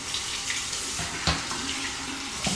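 Tap water runs steadily into a sink during a face rinse midway through a razor shave, a constant close splashing with a few louder splashes and no talking.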